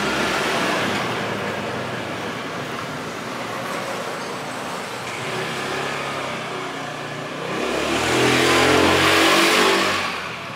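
A Honda CBR150i motorcycle fitted with an ignition booster box revs steadily up close, its engine note swelling loudly toward the end before easing off, with no voices.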